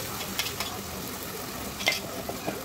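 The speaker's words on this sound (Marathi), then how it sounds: "आणि 4 ते 5 मिनटं व्यवस्थित असं हलवून घ्यायचं आहे" Ground masala paste fries in hot oil while a spoon stirs it, giving a continuous low sizzle with a few light scraping strokes against the pan; no voices.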